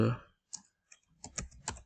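A few faint key taps on a computer keyboard, entering C++ code, come in an irregular run of light clicks after a brief trailing sound at the start.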